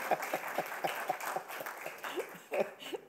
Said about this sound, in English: Yes, the women can clap if they want.